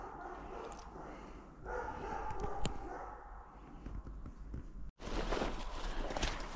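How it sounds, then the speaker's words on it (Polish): A dog barks a few times outdoors in a forest during a mushroom-picking outing for boletes, with footsteps and rustling throughout and a louder burst of broadband noise near the end. "Pies mi tutaj szczeka."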